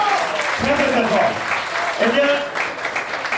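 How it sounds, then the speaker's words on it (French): A crowd at a New York anniversary celebration claps loudly and continuously, while an announcer's voice carries over the dense applause throughout. "On applaudit très fort."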